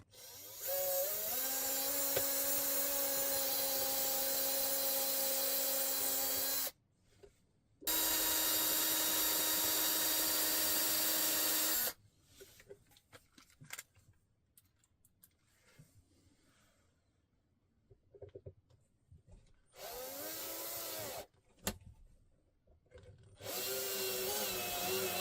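A power drill drills into wood, whining loudly in several long bursts, separated by pauses filled with quiet handling clatter.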